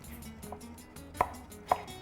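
A knife chops green onion on a cutting board, giving a handful of crisp, close knocks at an uneven pace with a couple of sharper strikes, and no one speaks.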